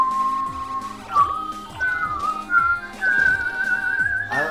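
A person whistles a wavering melodic tune alone, close and clear, with sliding pitch changes, accompanied by a soft rhythmic background loop while playing Katamari Damacy.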